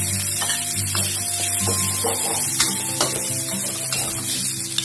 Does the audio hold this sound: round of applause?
no